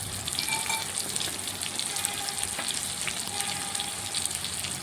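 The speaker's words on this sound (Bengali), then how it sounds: "আমি আবার কিছুক্ষণ অপেক্ষা করে নিচ্ছি মাছের আর এক পাশ ভাজার জন্য" Masala-coated fish fries in white oil in a pan with a constant, close crackling sizzle and scattered small pops, steady from start to finish.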